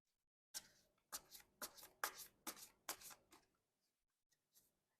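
Tarot cards being shuffled by hand in about seven crisp, rhythmic riffles, close and fairly quiet, followed by a couple of faint soft taps, with no voices.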